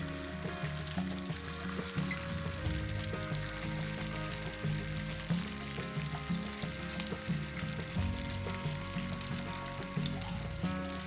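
Potato tikkis fry in a pan with a steady, continuous sizzle and crackle, fairly loud and unbroken throughout, with no voices.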